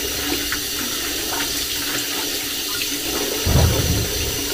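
Tap water runs in a steady rushing stream into a sink while dishes are washed with dish gel, with a brief heavier splash near the end and no voices.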